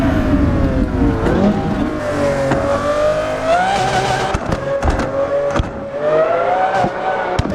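A Lamborghini Aventador SVJ engine revs hard under full throttle, loud and close, its pitch rising and dipping through several surges with brief gaps between them, and no voices.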